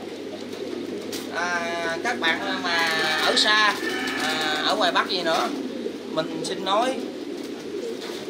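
Pigeons in a Thai-model farm of about ten thousand pairs coo softly and repeatedly under steady background noise. Someone talks in Vietnamese over the birds for most of the stretch.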